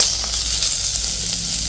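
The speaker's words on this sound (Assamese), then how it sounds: "এয়া চাওক গাহৰিৰ তেলটোৱে গৰম কেৰাহীত দি দিছোঁ" Pork frying in its own rendered fat in a hot wok gives a steady, bright sizzle, close and continuous with small crackles and no pauses, with no voices.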